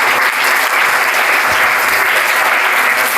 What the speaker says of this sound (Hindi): एक बार जोरदार से तालियां।